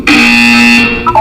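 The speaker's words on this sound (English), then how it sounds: "You will hear a buzzer." A loud, sustained electronic buzzer from the video game Portal 2 sounds for about a second with a steady harmonic tone, then cuts off into a brief trailing blip.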